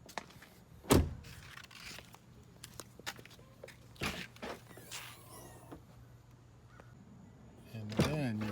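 A Land Rover LR3's door locks actuate with a sharp mechanical thunk, followed a few seconds later by another clunk and a brief whirring lock motor near the end, against a quiet background with faint movement.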